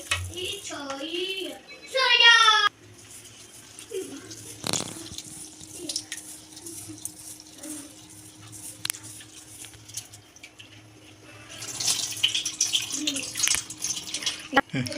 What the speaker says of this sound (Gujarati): ખીચડી ધોઈ નાખીએ.